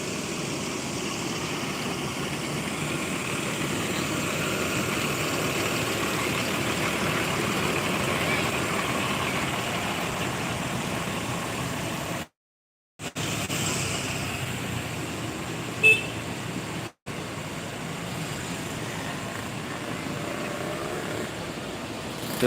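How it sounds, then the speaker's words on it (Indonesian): A Sempati Star intercity bus, number 1626 on the Medan–Palembang route, pulls in with a steady, fairly loud diesel rumble that runs continuously, broken by two brief dropouts near the end. "Itu bus apakah yang masuk?"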